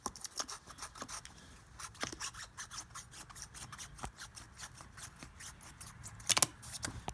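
A blade cuts out a silhouette target for an outdoor Nerf range, producing a rapid, continuous run of close, rasping cuts and scrapes that ends with a sharper burst.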